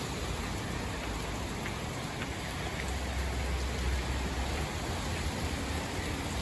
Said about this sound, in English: Look how much rain we've got in the last hour.